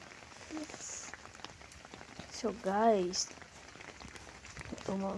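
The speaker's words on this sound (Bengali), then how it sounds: "যখন বাইরে বেরিয়ে দেখি আবার জোর বৃষ্টি শুরু হয়ে গেছে" Heavy rain falls outside on a rainy day as a soft, steady patter heard from a distance. A brief voiced sound rises over it midway.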